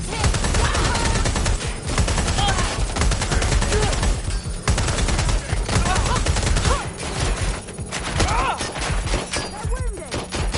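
Dense gunfire from Watch Dogs Legion, continuous bursts of automatic weapons and scattered heavy shots filling the whole stretch, loud and close, with game voices talking beneath the barrage.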